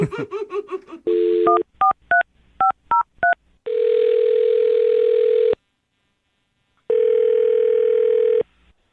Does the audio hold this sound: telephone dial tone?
yes